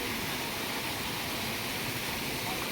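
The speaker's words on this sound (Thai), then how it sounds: "มีน้ำตกนี่นะโอ้" A waterfall at a forest temple in Laos pours in a constant, close hiss of rushing water, loud and unbroken for the brief moment.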